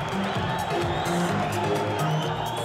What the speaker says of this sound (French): Chacun encourage son candidat.